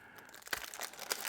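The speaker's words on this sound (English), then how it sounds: "We got to get a knife. Cut this open here." A knife cuts open a package holding a tiny Furitek Micro Python ESC, producing a short, faint run of crinkling and tearing of plastic packaging at close range.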